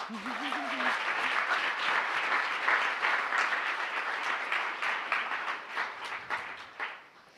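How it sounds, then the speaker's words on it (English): An audience at a university energy and resources conference plenary breaks into sustained applause that swells quickly, holds steady for several seconds and tapers off at the end, with a brief voice audible at the start. "And give them a clap."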